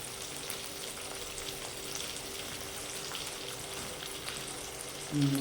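Potato pieces frying in oil for sabudana khichdi, a steady even sizzle and crackle of hot oil that continues throughout at close range, with a short louder clatter at the very end and no voices.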